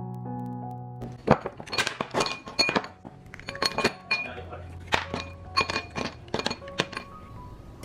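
Small frozen hibiscus tea ice cubes clink and tumble against a drinking glass in a quick series of close, bright taps, with faint speech in the background.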